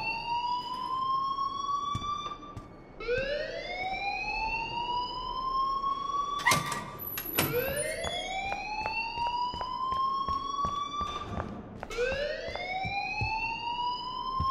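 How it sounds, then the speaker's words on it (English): Repeating electronic alarm in the Life is Strange video game, each cycle a rising wail that sweeps upward and holds, with sharp bursts in between, sounding loud and continuous with no talk. "please turn off that alarm"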